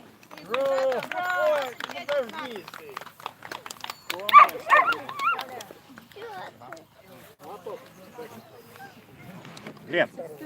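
Greyhounds at a racing award ceremony give a few short barks and yips amid frequent talk from people nearby, the dog sounds brief and moderately close.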